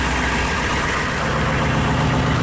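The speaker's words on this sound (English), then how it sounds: "But it's definitely a big diesel." A big diesel engine in a 2009 Hummer H1 military clone idles close by, a loud, steady, even rumble with no voices over it.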